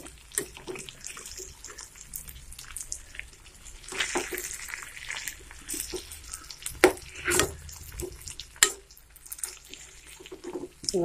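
A spoon scrapes and clatters now and then as stuffed brinjal curry is stirred in a pan, over a soft, wet sizzle with uneven bursts.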